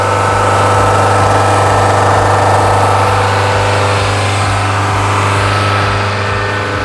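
A car engine that gives off a burning smell idles close and loud, a steady low rumble with an even rhythmic throb and no speech over it.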